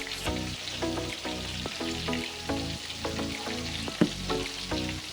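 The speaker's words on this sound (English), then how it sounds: "Stir that together." Spices and a few red peppers being stirred together in a hot frying pan, with a steady sizzle and repeated scraping strokes of a utensil in a regular rhythm, close and fairly loud, no talking.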